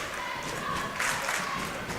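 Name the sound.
basketball crowd cheering in the gym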